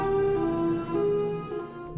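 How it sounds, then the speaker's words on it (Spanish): Missile siren giving a powerful mechanical hum, heard as a loud, steady tone that wavers slightly in pitch for about two seconds, alone with no talk. "Un zumbido mecánico potente que atraviesa el aire como una advertencia apocalíptica."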